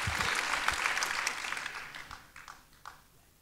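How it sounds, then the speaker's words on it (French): An audience applauds after a live performance at the Festival Arabesques 2019 concert, a dense patter of many hands. The clapping is strong at first, then thins and fades toward the end. "Grand merci pour ces applaudissements bien mérités"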